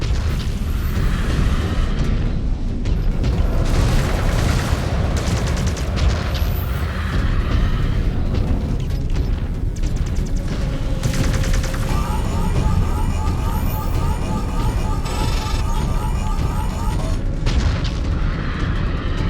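Heavy gunfire and repeated booming explosions from a mech combat video game fill the whole stretch, dense and loud, with rapid crackling bursts in the later part and a voice talking intermittently over the battle.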